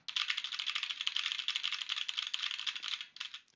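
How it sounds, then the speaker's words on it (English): Rapid, even typing on a computer keyboard close to a headset microphone, a continuous clatter of keystrokes lasting a few seconds before trailing off, with no voice over it. "So I'm going to start typing on my keyboard."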